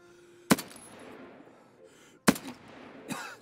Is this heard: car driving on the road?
no